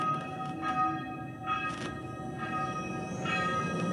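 Bells ring within a draft music track for a film festival, sustained chiming tones layered over a droning, mystical backing that swells and fades at a moderate level.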